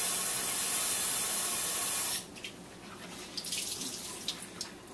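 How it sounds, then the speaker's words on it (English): Soapy water running from a tap into a kitchen sink for dishwashing, a steady loud hissing gush for about two seconds that cuts off, followed by quieter clinks and splashes of dishes being handled. "we're going to wash the dishes"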